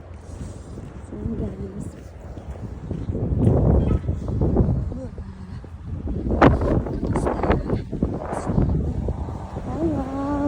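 Strong wind gusts blow through a snowfall in a city, roaring and buffeting the microphone in loud surges, while a person talks over it.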